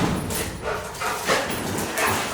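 Several dogs bark and yip in a noisy outdoor setting before a winter storm, with the barks overlapping in a steady, rough clamor.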